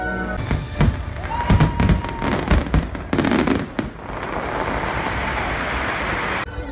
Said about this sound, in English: We're gonna watch fireworks.